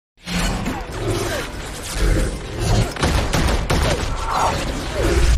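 Gunfire in a tense film shootout, bursts of shots crackling through a dense, loud action mix that swells and holds steady for several seconds.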